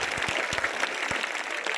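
An audience claps at a 15 August cultural program at a government senior secondary school in Ugalan, a brief burst of steady, fairly distant applause from a crowd.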